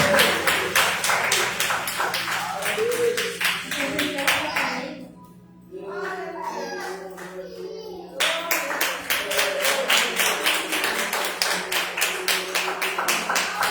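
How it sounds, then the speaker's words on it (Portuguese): Steady, rhythmic hand clapping fills a church service, loud and even, breaking off briefly into a quieter stretch before resuming just as strongly. "Agradeço por mais as palmas, né?"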